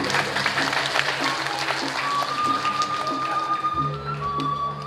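Live audience applause at a Balinese Drama Gong theatre performance, a dense, steady clatter of many hands filling the whole stretch at close range.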